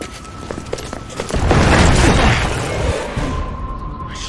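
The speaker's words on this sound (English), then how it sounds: "Commencing with bombing." Bombing explosions rumble through a Resident Evil cutscene, swelling into a loud, sustained roaring blast with crackling debris before easing off toward the end.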